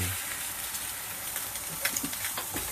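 Red mullet fillets fry in a hot pan to crisp the skin, giving a steady, fairly quiet sizzle with a few sharp spits and pops toward the end.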